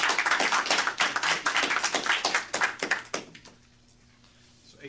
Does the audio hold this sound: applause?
yes